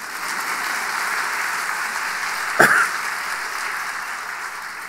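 Steady, even applause fills a Sunday evening church service in Busan, with one brief louder knock or clatter near the middle.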